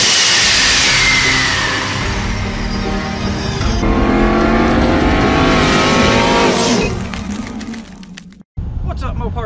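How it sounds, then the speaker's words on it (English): A stock Ram 1500 4x4 pickup with a 5.7 HEMI, tune, full exhaust with mufflers and cold air intake on street tires roars hard down a drag strip, loud and sustained as it pulls away, then cuts off abruptly before noise resumes. "we are running it down the track today to get a baseline pull"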